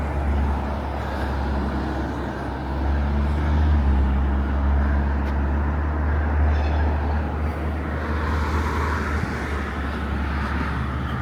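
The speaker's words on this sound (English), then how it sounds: "Bear with me as I navigate some cars." Cars pass at night through the Goodman Road and Elizabeth Way intersection, a steady, dense roadway rumble with a continuous low drone and no clear speech.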